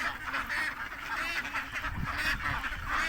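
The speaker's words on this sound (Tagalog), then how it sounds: "umahon na po yung aming mga itik dahil hapon na pupunta na sila sa kanilang kulungan" Domestic ducks heading home to their pen in the late afternoon, a flock quacking in a dense, continuous chorus of overlapping calls, fairly close and loud throughout.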